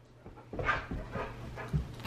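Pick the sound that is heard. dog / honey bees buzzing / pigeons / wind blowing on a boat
dog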